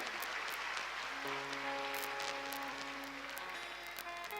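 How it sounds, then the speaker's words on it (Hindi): A devotional gathering claps in continuous applause to welcome Ram and Sita, with a faint sustained musical tone underneath. "एक बार जोरदार तालियों से भगवान जी का राम सीता जी का स्वागत करें।"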